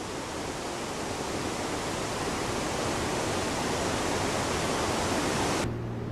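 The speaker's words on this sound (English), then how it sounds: "This is Reed Falls, named after Frank Reed, the hero of Skagway" Reed Falls near Skagway, Alaska, pours as a loud, steady broadband roar of falling water, close and unbroken before cutting off abruptly at the end.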